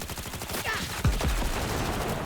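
Enemies in Cyberpunk 2077 shooting from several directions at an exposed player without cover: rapid, overlapping bursts of gunfire in a loud continuous volley, with a couple of heavier thumps partway through.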